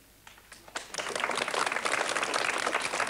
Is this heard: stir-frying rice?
no